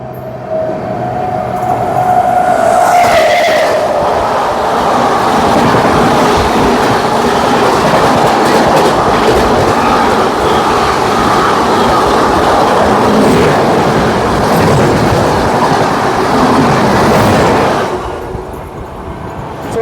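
Odisha Sampark Kranti train running at speed alongside the Jammu Mail, a loud continuous rumble of wheels and carriages with rhythmic clatter, a brief horn-like tone early on, then fading near the end.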